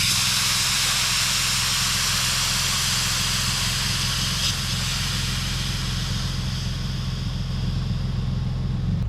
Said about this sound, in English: The valve, the minute I start pressing it in, is going to expel air and lower the vehicle at the same time.